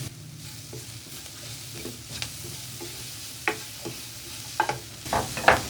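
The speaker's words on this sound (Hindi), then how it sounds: "इन सब चीजों को हम हल्का सा फ्राई करेंगे।" Cumin seeds, salt and black pepper frying lightly in oil for Pakistani chicken Russian cutlet kababs, a soft steady sizzle with scattered stirring scrapes and clicks that grow louder toward the end.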